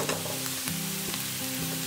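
Onion chutney sizzles in a pan while a spatula stirs it, a soft steady hiss marked by a few brief scraping strokes, heard alone.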